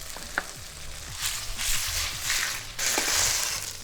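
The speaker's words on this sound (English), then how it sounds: "Get some oil nice and hot in our wok. Then we're gonna cut up our tofu and that goes into our oil." Tofu frying in hot oil in a wok gives a steady broadband sizzle, swelling in loud bursts with a few sharp crackles and pops, close up with no talking.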